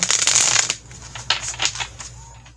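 Tarot cards are shuffled up close: a dense riffling burst, then several shorter shuffling bursts.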